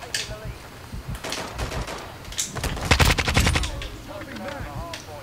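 Gunfire in Modern Warfare 2 multiplayer, with rapid bursts of automatic shots clustering loudly near the middle, scattered single shots around them, and a player talking over the action.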